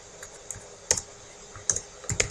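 A few sparse keystrokes tap on a computer keyboard while code is typed, close and crisp, in small irregular clusters against quiet room hiss.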